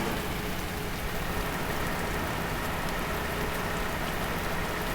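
Steady, soft hiss of rain falling in the video game Universal Truck Simulator, a continuous even patter with no voices and no distinct drops standing out.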